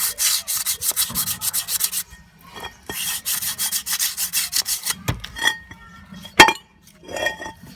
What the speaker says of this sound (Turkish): Çok aşırı kalın veya çok aşırı ince zımpara olmasına gerek yok.